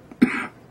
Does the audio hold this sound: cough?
yes